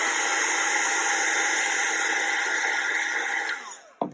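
A heat tool blows steadily while heat-setting bonding powder and foil over a stamped motif, a loud even airy roar that holds for about three and a half seconds, then fades and cuts off with a brief final gust.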